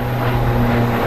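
A steady, loud roar of an airplane at Phoenix Sky Harbor International Airport, a broad continuous rumble with a low humming drone and no pauses.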